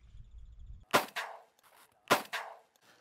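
Two sharp, loud shotgun blasts about a second apart during a dove hunt outdoors, each followed by a brief echoing tail.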